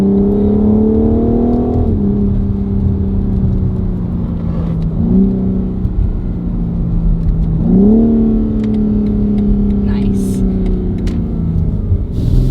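Stock 2023 BMW M4 Competition, about 444 horsepower, heard from inside as a loud, steady engine drone with several rising shifts in pitch as it pulls and changes gear, with light pops near the end.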